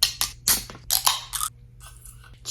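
A cold drink being opened gives a few sharp close cracks and crisp snaps, followed by a soft, faint fizzing hiss that trails off in a quiet room.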